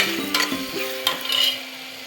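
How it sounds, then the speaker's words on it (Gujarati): A spoon stirs green chickpea curry with tomatoes and green garlic in a pan, with soft scraping strokes over a quiet sizzle of frying, close and steady with no voices. "પછી એને પણ આ રીતે આપણે હલાવી દઈશું"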